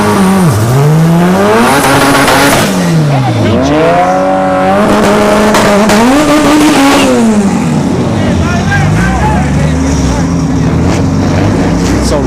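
Honda and Acura drag cars, including a turbo EJ9, launching at a dragstrip test-and-tune session: loud, continuous engine wails rising and falling through hard revving runs, with an announcer-like voice partly under the noise.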